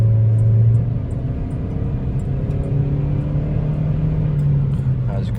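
A 2021 Toyota Corolla SE engine revs while driving, with a steady, close engine drone and a slight surge at the start, heard from inside the cabin.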